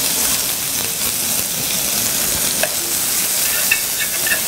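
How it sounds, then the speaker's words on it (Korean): Blanched spinach and chopped onion sauté in a pan, a loud, continuous close sizzle with a few soft stirring knocks. "한번 데쳐낸 시금치이기 때문에 오래 볶으실 필요는 없습니다"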